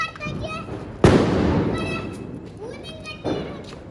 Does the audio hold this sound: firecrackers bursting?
yes